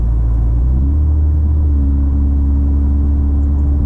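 A 301-horsepower Toyota Camry XSE V6 while driving gives a loud, steady low engine drone with a deep exhaust rumble, its pitch stepping up slightly partway through, heard close from inside the car.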